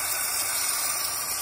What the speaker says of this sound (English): All you need to do is just turn on this nozzle and you see this steam coming off.